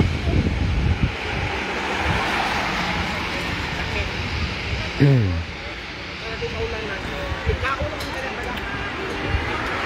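Strong outdoor wind roars steadily across the microphone beside a parked caravan, with broadband rushing and occasional gusts, while people talk underneath.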